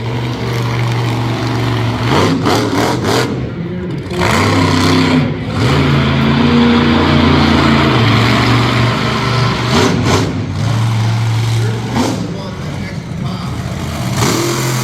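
A monster truck at a Middletown, New York motorsports event revs its big engine loudly in repeated surges and drops while sliding around the dirt track, with brief sharp bursts between the sustained roaring tones.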